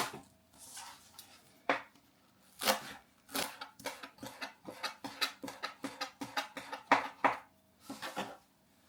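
Green onion tops are chopped with a knife on a board: a few slow cuts, then a fast run of sharp, close taps in a steady rhythm, with no talking.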